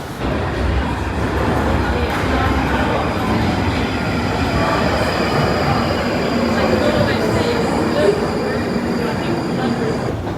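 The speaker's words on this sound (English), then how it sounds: "I did take that last train for literally one stop" Continuous rumble and clatter of a London Underground Northern Line train in motion, with faint squeals and a constant roar; people's voices murmur faintly beneath the noise.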